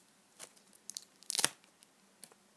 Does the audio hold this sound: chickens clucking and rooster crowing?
no